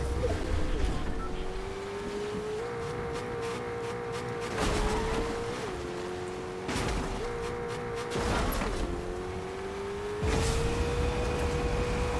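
A car driving in the Fortnite video game, its engine a steady droning hum that rises and falls in pitch, with sharp impact bangs and gunfire bursts breaking in a few times.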